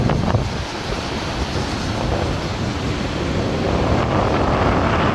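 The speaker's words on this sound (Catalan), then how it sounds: "Aquí està el riu." A river rushes through Iao Valley while gusty wind buffets the microphone, a steady broadband roar of flowing water and rumbling wind noise with no voices.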